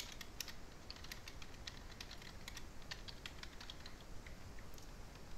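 Quiet, rapid tapping of keys on a computer keyboard, typing notes for a TI-84 Plus CE calculator, a steady patter of light clicks with no voices.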